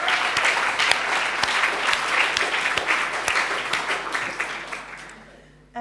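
A conference audience applauds in recognition of caregivers. The clapping is steady and full, with scattered sharper claps standing out, and it fades away over several seconds before ending abruptly.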